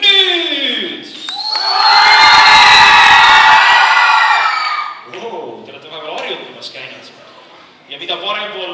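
The left half of the audience at the Noored Tähed 2012 youth show cheers, whoops and shouts in a loudness contest, a loud roaring wall of crowd noise lasting several seconds, followed by a presenter talking over scattered shouts.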